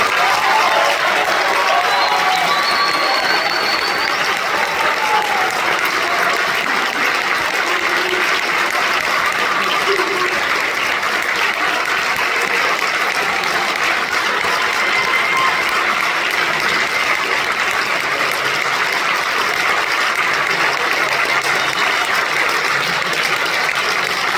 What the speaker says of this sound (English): Let's give our seniors a round of applause.